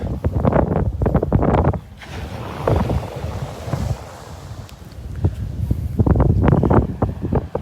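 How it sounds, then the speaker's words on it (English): Strong gusty wind at Delnor-Wiggins beach roars against the microphone in loud buffeting bursts, easing briefly mid-way before surging hard again. "Boy, that wind has just really picked up just now. I got my back to the wind, but it is blowing. Really blowing hard."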